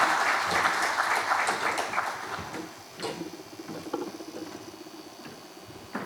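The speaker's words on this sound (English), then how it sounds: "And please, once again, can we have a big round of applause?" Seminar audience at an international business event breaks into a round of applause, a dense patter of many hands clapping that is loud at first, then thins and tapers into scattered claps.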